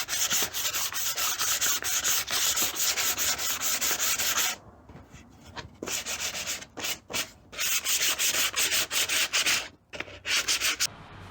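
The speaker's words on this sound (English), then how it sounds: "A Dremel might be one way to go, but like I said, some coarse sandpaper to be able to do the trick." Coarse sandpaper scrubbing basic plywood by hand, fast rhythmic rasping strokes close up, broken by short pauses.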